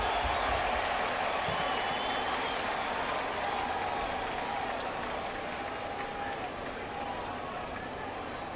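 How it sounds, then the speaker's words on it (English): Boston crowd at a 2021 Red Sox baseball game giving a derisive cheer after a strike call, a broad sustained roar filling the stadium. It stays steady throughout, with a faint whistle or two on top. "a derisive cheer from the Boston crowd"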